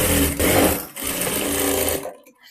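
A sewing machine stitches a strip onto a blouse, running loud and close in a continuous whirring burst, pausing briefly, running again for about a second, then stopping.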